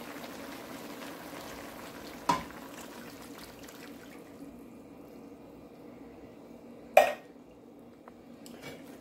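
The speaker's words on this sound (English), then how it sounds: "We're going to pour in the coconut milk." Coconut milk pouring into a pot of boiling sweet potato stew with ribs and ham, a steady low bubbling and liquid wash broken by two sharp clinks of a utensil against the pot.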